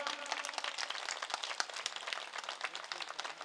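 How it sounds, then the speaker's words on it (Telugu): An audience at an Ambedkar statue unveiling in Srikakulam claps in a dense, steady burst of applause, many hands together, moderately loud throughout with no talk over it. "బిగ్ క్లాప్స్ కొడదాం"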